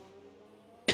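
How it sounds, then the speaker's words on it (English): After a near-silent stretch of faint hum, one sharp, loud cough bursts out right at the end. "excuse me for coughing tonight because I'm not very well"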